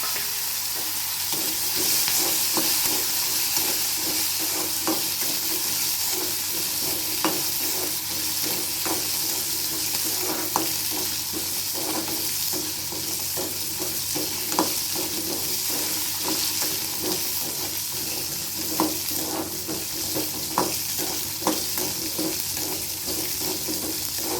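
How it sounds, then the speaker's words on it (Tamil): Onions sizzle loudly and steadily in a pan for a Tamil-style mutton curry, with regular scraping clicks of a stirring spoon cutting through the continuous frying hiss; no one speaks. "அடுத்தது வெங்காயத்தை போட்டுக்கலாம்"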